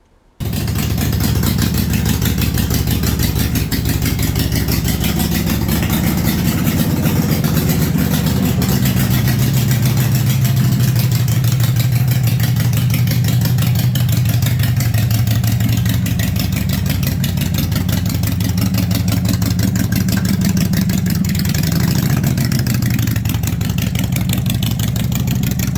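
A Harley-Davidson Sportster motorcycle engine with new Screamin' Eagle exhaust pipes, not yet remapped, idles steadily and loudly throughout, a deep rumbling throb with slight swells in pitch, close by and without talk.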